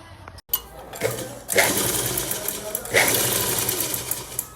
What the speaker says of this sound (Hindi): तो इसको मैं सिलाई लगा के फिर आपको दिखाती हूँ